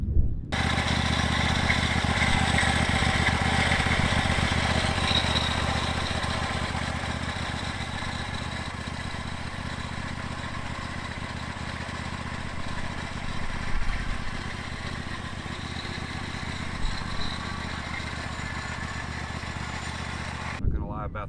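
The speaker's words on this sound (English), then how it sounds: "I have the MZ Magnum, the 54-inch mowing deck, and 725cc Kohler engine. The engine is really loud." Bad Boy MZ Magnum zero-turn mower with a 54-inch deck and a 725cc Kohler engine runs steadily and loudly up close, a continuous droning engine roar with a slight dip partway through and no talk.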